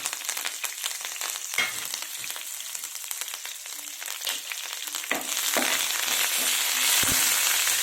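Steady crackling sizzle of dried red chilies, curry leaves and garlic frying in hot oil, growing a bit louder toward the end, with no voices.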